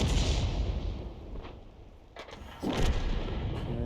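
Artillery fire in a World War II tank video game with a 105 leFH18B2 self-propelled gun, with a loud rumbling blast at the start and another at about 2.6 seconds over a steady engine drone.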